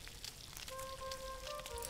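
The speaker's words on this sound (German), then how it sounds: "Pfanne, ich kann jetzt mal das Fleisch anbraten" Meat sizzles in a pan in the video game Gothic II, a soft crackling hiss with faint tonal game-effect lines, quiet and continuous with no talking.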